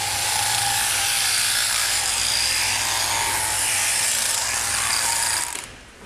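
A sheep-shearing electric handpiece buzzes in a steady, loud, high-pitched whine as it clips a sheep's fleece, running continuously for several seconds before cutting off abruptly at the end.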